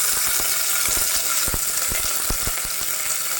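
Halved dried red chillies and curry leaves fry in hot oil, a dense, loud crackling sizzle with a quick run of sharp spatters and pops, close up and without talk.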